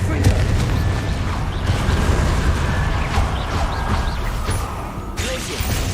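Booming blasts and crashing impacts from a Confringo blasting spell in the Hogwarts Legacy video game, dense and loud throughout amid chaotic combat noise.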